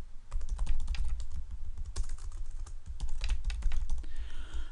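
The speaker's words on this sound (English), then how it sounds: "I'm going to type the names of a few places." Fingers type quickly on a computer keyboard, a close, rapid patter of key clicks with brief pauses, with no voices over it.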